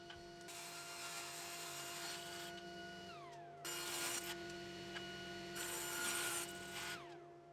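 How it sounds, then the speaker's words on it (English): Hand sawing of a tenon into a wooden cross rail for a modern coffee table, heard as steady rasping strokes in two long bursts with a pause between, close and moderately loud, with no talk. "Moving on to the cross rail, which I'm going to cut the tenon into."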